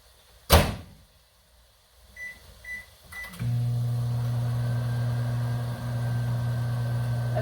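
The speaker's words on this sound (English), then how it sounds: "We're going to microwave it." A sharp thud and a few soft beeps, then a microwave oven starts and hums steadily at a constant pitch for several seconds.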